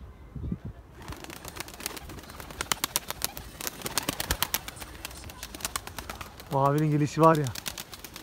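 A crested Sabuni (perçemli sabuni) pigeon takes off and flies, giving a run of sharp, irregular wing claps and flutters close by, with someone talking briefly near the end.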